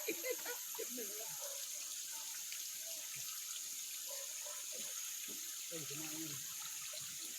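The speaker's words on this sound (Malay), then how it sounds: "So inilah dia sungai yang keluar daripada tanah sebelah ni" A small river flowing out of the ground on a plot of land at Ulu Tamu, Batang Kali, Selangor, with a faint steady rush of water and a person talking quietly nearby.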